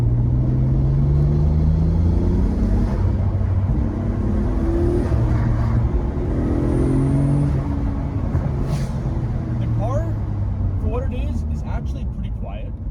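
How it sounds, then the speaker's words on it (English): A Nissan Skyline R33 GTR on the move, its engine and exhaust droning as a steady low rumble with rising and falling pitch, plus faint higher turbo whistles, continuous throughout. "The exhaust isn't super loud and you can still hear the turbo."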